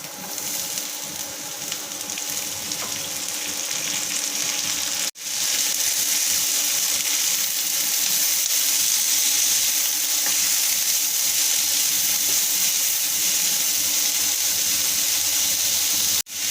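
Cut cowpea beans hiss and crackle in a pan of frying onions, a loud, continuous close-up sizzle that barely breaks for a moment partway through, with no voices.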